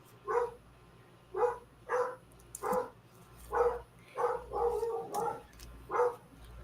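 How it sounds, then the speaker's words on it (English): A dog barks repeatedly indoors, about nine moderately loud woofs in an uneven rhythm, some in quick pairs, heard alone with no talk over them. "sorry about my dog barking"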